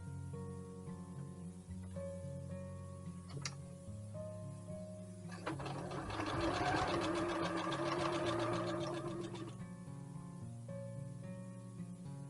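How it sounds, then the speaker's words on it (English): A sewing machine stitches quilt pieces together, a rapid mechanical chatter lasting several seconds in the middle, quiet and close, surrounded by soft background music. "sew these couple pieces together here"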